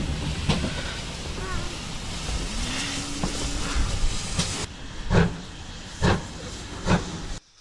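British Rail 4110 steam locomotive at a station on the East Somerset Railway, giving a steady broad hiss with a few louder steam bursts toward the end, no talk.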